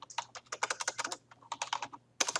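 Fast, close typing on a computer keyboard, a dense run of crisp clicks with a short pause near the end before a final quick flurry of keystrokes.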